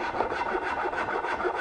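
A small rasp filing wood during a joinery fit, steady close scraping strokes in a quick even rhythm, quiet and alone.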